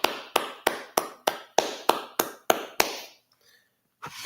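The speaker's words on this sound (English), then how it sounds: "Clap it up." Nine sharp, evenly spaced claps ring out in a steady beat at close range, followed by a pause and one more clap.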